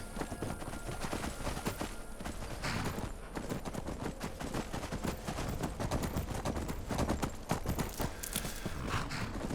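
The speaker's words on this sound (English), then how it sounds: "Never run into somebody's horse." Horse hooves clip-clop steadily on the ground in a Skyrim-style fantasy video game, loud and close, with a continuous busy rhythm and no talking over it.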